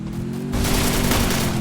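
Gunfire in a shooter video game, with enemies firing down from above: dense, loud, continuous bursts of shots that swell after a moment and keep roaring over a steady drone of game background sound.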